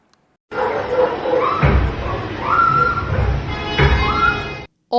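Street dogs bark and yelp in a short outdoor burst, several sharp barks scattered over a few seconds at moderate distance, with thumping noise mixed in.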